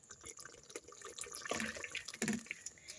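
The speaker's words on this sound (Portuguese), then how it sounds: "Aí eu boto um pouquinho de água" A little water trickles from a tap into a pan while chicken is prepared on a wood-fired stove, with faint splashes, short bursts and low background noise.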